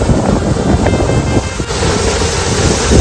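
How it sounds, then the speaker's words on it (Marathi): Strong wind roars steadily across the microphone over a constant wash of sea and surf aboard a fishing boat, loud and unbroken throughout. "वारा बघा वारा कसा झाला"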